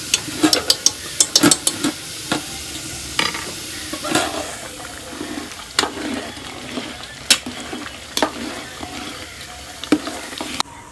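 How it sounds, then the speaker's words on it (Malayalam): Onion, green chili, ginger and garlic sautéing in a pan, with a steady soft sizzle under repeated sharp scrapes and clinks of a spoon stirring, close up and without any talking. "ഉള്ളിയും പച്ചമുളകും ഇഞ്ചി വെളുത്തുള്ളിയൊക്കെ ഇട്ട് നമ്മൾ വഴറ്റി വെക്കാം."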